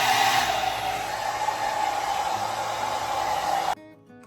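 A hair dryer blows steadily and loudly at close range, drying setting spray on a face, then cuts off abruptly near the end.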